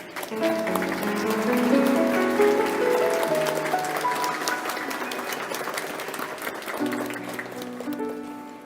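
A church congregation applauds during a worship service, a steady bed of clapping mixed with sustained keyboard or organ music that carries through and swells again near the end.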